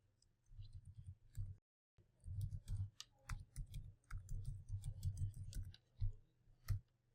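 Quiet keystrokes on a computer keyboard while code is typed, irregular clusters of light clicks with short pauses between bursts, close to the listener with no talking.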